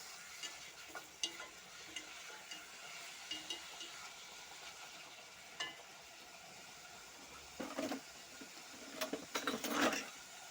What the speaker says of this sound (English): Add this amount of salt. It's just a little bit because it is on the meat. I stir a little bit.